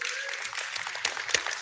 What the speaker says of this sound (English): I was going to signal the applause later, but I love the enthusiasm.